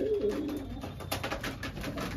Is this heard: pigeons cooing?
yes